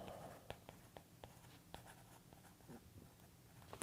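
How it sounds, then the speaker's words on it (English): A pen writes on paper in a quiet room, with sharp scratchy strokes and short ticks scattered irregularly across the clip, fairly faint and close, with no voice present. "Write your name."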